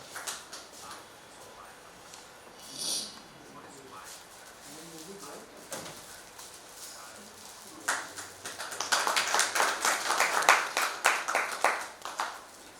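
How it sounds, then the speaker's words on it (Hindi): An audience applauds an MLA being honoured on stage at a theatre event, with a talking voice and scattered claps building into a louder, fuller round of clapping toward the end. "मैं चाहूँगा एक बार जोरदार ताली से आप लोग"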